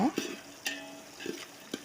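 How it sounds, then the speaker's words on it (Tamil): Brief stirring and frying of chopped onions in a pan, with a few scraping clicks of a utensil over a soft background sizzle. "நறுக்கி வச்சுருக்கிற நம்ம வெங்காயத்தையும் சேர்த்து நல்லா வதக்கி எடுத்துக்கலாங்க"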